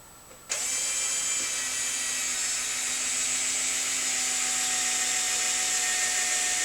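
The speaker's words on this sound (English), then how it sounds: "So we're drilling out pieces right now." A power drill starts abruptly after a moment of quiet and whirs continuously at a high, steady pitch, close and loud, drilling out pieces for ice fishing tip-downs.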